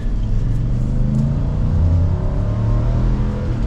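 A 2024 Nissan Titan PRO-4X pickup truck engine revs and pulls steadily under acceleration into higher RPM, a loud continuous rumble that climbs in pitch with no voices over it.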